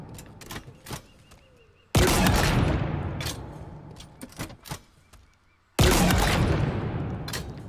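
The Skewer, a heavy weapon in Halo Infinite, fires two separate booming shots, each a sudden loud blast with a long rumbling tail, between quieter in-game clicks and effects.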